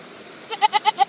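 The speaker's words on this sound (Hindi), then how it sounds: "ये बकरा भी देख के उदास हो गया, ये आवाज़ें निकालना शुरू हो गया" A goat bleats four times in quick succession at a farm after an animal's death, each call loud, close and wavering, following a brief quiet moment.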